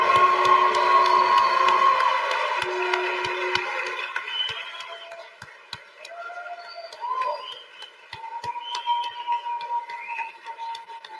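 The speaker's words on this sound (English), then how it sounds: "One more large round of applause for our future physicians." A crowd cheers and applauds future physicians at a medical school white coat ceremony, with a loud burst at the start that tapers into scattered clapping and whoops.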